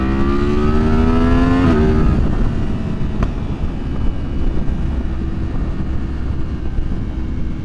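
A 2023 Yamaha MT-10 motorcycle with a Leo Vince decat exhaust revs hard under acceleration, its rising engine whine cutting off at a gear change and giving way to loud, rumbling engine and wind roar.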